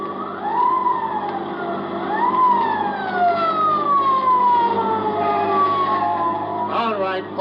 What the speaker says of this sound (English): it ain't long before I hear that old familiar sound, a motorcycle siren